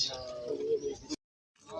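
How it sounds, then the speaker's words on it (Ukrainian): Soft pigeon cooing close by at a decorative bird show, a short warbling call that cuts off abruptly, followed by a brief silence and a faint resumption. "Да, голуби красиві."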